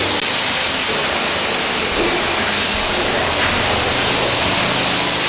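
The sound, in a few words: water hose rinsing out manure tanker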